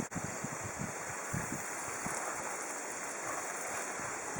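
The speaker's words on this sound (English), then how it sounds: "Outdoor shower." Water sprays steadily from the nozzle of a solar camping shower bag outdoors, a continuous hissing rush that stays even and unbroken throughout.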